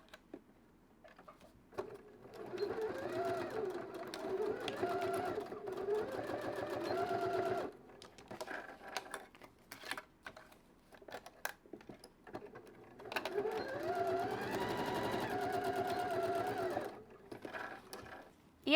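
A domestic sewing machine stitches a fabric pouch in two long bursts of rapid whirring and needle clatter, separated by quieter handling noises and brief faint speech.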